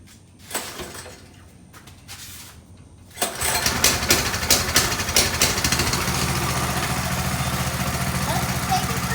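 A mini bike engine runs just after an oil change, starting at about three seconds and then holding a steady, loud idle-like drone. Before it starts there are only scattered faint knocks and handling noises.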